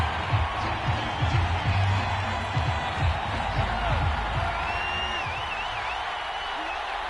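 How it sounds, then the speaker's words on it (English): Crowd noise from an American football video game on PS4, a steady roar of spectators with scattered shouts and whoops watching a replay, fairly loud and continuous, with a commentator talking over it. "Plenty of shouts from this crowd as they watch the replay."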